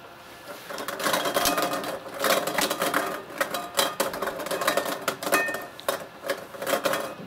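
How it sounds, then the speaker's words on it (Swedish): Lottery balls are mixed for a sports tournament draw, a dense, fast clattering and rattling that surges and eases in waves, close and fairly loud with no talking. "Blandar vi kulorna och så drar vi en gruppvinnare."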